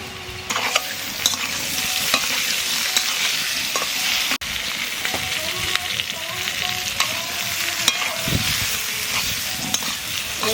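New potatoes fry in a village-style pan, a loud, constant sizzle with steady stirring and scraping of the spatula throughout, close by and with no voices.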